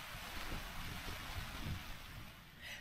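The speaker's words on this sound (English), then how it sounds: "began raining again as you can hear." Steady morning rain on the Isle of Seil in Scotland, with a constant broadband hiss and low rumble, fairly even throughout, with no voices.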